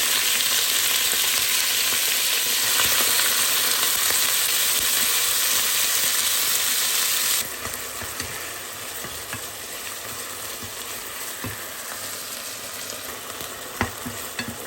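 Beef and veal pieces fry in hot oil in a pot, giving a loud, steady sizzle with occasional stirring clicks. The hiss drops sharply in intensity halfway through and then continues more quietly.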